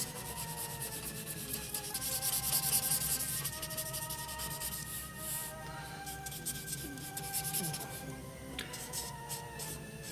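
Soft, steady pencil shading on paper while a zombie drawing is darkened in, a continuous faint scratchy rubbing with short strokes, close and quiet.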